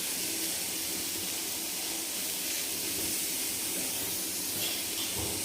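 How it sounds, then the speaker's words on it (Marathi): Onion dry-roasting on a hot iron griddle until charred gives a steady, close, fairly loud hiss that runs unbroken from start to end, with no talk over it. "कांदा एकदम छान आपल्याला काळसर भाजून घ्यायचा आहे लोखंडी तव्यावर टाकलेला आहे पटकन भाजला जातो"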